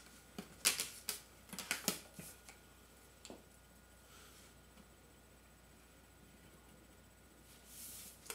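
Pencil eraser rubbing out an extra drafted line on paper: faint, close scratchy scrubbing strokes in a quick cluster early on, then a long quiet stretch with a light rustle near the end.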